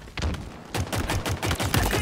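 Gunfire bursts in the video game Halo Infinite, with a grenade blast among rapid repeated shots that come in loud clustered volleys with brief gaps between them.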